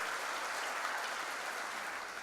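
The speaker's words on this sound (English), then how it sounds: "So a big round of applause for our sponsors" Sustained, dense applause from a large audience at a 2018 State of the City address, honoring the event sponsors, an even wash of clapping throughout with no voices on top.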